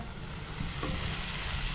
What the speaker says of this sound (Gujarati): જો વઘાર ચાલી રહ્યો છે